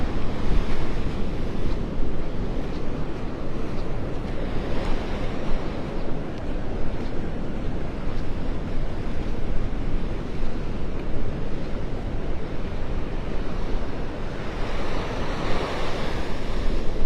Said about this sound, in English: See the sandbar out there, the waves rolling over it.